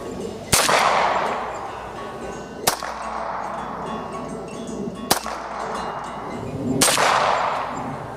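Four sharp pistol shots from a Beretta 92FS, spaced irregularly about two seconds apart, each loud and close with a ringing decay.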